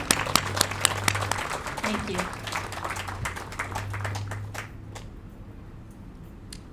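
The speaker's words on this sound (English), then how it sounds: "a round of applause" Audience applause at a 9/11 ceremony honoring police, fire and military personnel, a dense burst of clapping that thins and fades over several seconds while someone speaks briefly over it.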